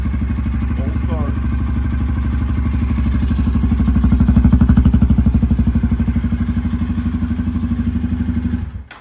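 A 2023 Honda XR150L motorcycle idling on a chilly morning right after a cold start without choke: a steady, loud, close single-cylinder putter with even pulses that cuts off abruptly at the end.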